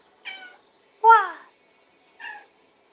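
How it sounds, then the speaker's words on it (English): A pet cat meows three times indoors, with loud, clear calls spaced about a second apart and near silence between them. "There's my cat, Shasta."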